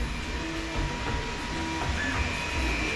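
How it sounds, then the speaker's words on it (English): A 3D printer runs while printing parts for a Ferrari 360 Spider build, giving a steady, continuous mechanical whir and drone with a faint tonal hum throughout. No one speaks. "I'm actually printing right now."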